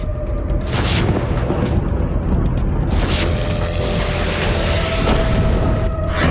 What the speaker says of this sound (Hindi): सोमवार की रात डोनेस्क में कई जगहों पर धमाके हुए